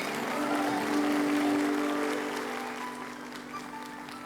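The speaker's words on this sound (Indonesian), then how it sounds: "Kita berikan tepuk tangan yang meriah" Audience at an 18th anniversary church celebration breaks into warm, continuous applause, loud and sustained before slowly tapering, with a faint tonal hum underneath.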